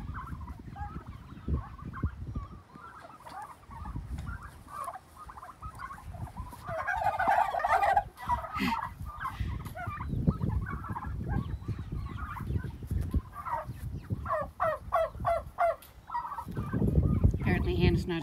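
Turkeys gobble repeatedly in bursts amid chickens and other fowl noises and scattered background voices on a farm, fairly close and continuous throughout, as turkey and chicken tractors are moved.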